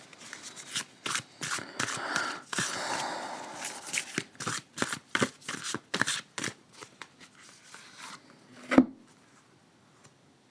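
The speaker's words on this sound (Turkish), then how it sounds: "Bu desteden bir tane kart çekmek istiyorum" A Rumi oracle deck being shuffled by hand, a run of crisp riffling card bursts in quick irregular rhythm, close and fairly loud, thinning out near the end with one sharp tap.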